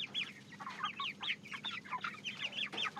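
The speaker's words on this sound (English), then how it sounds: "So probably I'm gonna have a chicken come out." Chickens cluck softly inside a chicken tractor on a small pastured poultry farm, with a quick run of overlapping clucks and short calls. The birds sound fairly faint, with no talk.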